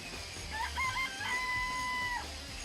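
Chickens in the video game DanganRonpa give a clear, drawn-out crowing call, up close and alone over a low background hum.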